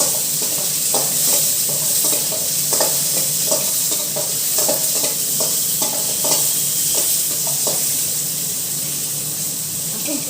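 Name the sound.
sautéing mint chutney ingredients with garlic in a pan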